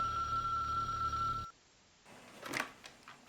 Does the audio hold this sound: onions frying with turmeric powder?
no